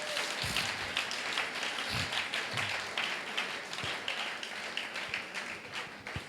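A church congregation applauds: sustained clapping from a crowd, fairly soft and even, with some louder individual claps, lasting several seconds without speech.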